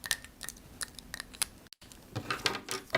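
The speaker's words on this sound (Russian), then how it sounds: "Излишек срезаю ножницами." Scissors snip through excess sewing fabric, trimming the seam allowance on a designer skirt of tulle with flowers: a series of sharp, close, crisp cuts spaced irregularly, a brief pause, then a quicker cluster of snips.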